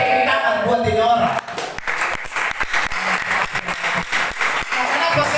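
A church congregation claps during a sermon, a dense burst of applause with sharp individual claps breaking through, loud and close, mixed with voices and cheers throughout.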